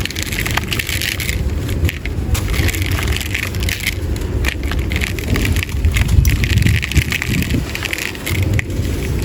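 Dry, stony, gritty sand crumbles and pours into a bowl up close, a steady crunchy rustling with scattered sharp grainy crackles and brief louder bursts, no talking.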